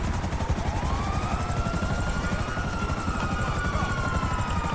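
A helicopter in the video game GTA 5 sets up a loud, steady rotor thrum with a whining turbine tone over it, continuous and close, with no talking.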